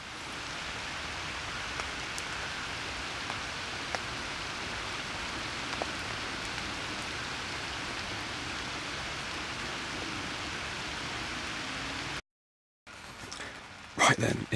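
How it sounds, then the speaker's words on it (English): Heavy rain falls during a thunderstorm in a steady, hissing, close downpour that stays fairly even for about twelve seconds, then cuts out briefly before louder handling noise. "As you can probably hear, that's the rain"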